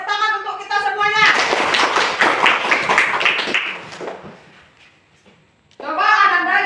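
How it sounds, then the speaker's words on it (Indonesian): Schoolchildren in a classroom clap together after a lesson on bullying, a short burst of rhythmic clapping between children's voices, fading out before the voices return. "tepuk tangan untuk kita semuanya"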